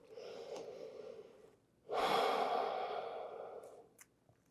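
Slow, deep breaths during a yoga child's pose: a long soft exhale, a pause, then a fuller, louder breath lasting about two seconds, close and unaccompanied by talk.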